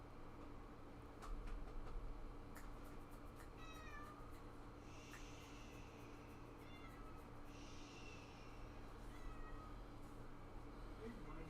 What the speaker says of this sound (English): you probably hear my cat